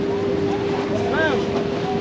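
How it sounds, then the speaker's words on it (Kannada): A speedboat at Pattaya approaches, its motor a steady droning hum mixed with wind noise at the microphone, moderately loud throughout the short stretch. "ಈ ಬೋಟ್ ಬರುತ್ತೆ."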